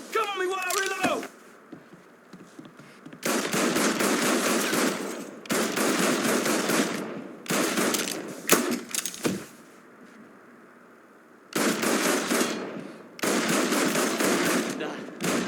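Video game gunfire from Mafia 3: loud bursts of automatic fire come in several separate volleys of one to three seconds each, with brief quieter gaps between them.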